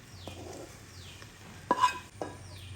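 Spoon scraping and clinking in a pot while fried prawns are mixed into biryani masala, a couple of sharp metallic knocks over a soft low hum, quiet and close.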